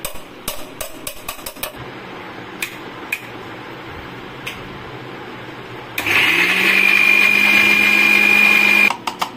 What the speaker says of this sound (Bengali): আমি কাজু, মগজ আর পোস্ত ভিজিয়ে রেখেছিলাম